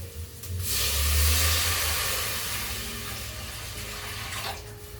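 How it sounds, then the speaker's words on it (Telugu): Running water gushes steadily into a cooking pot with a broad hiss, loudest early on and easing slightly toward the end, with no voices. "సో ఇప్పుడు దీంట్లో వాటర్ యాడ్ చేద్దాము."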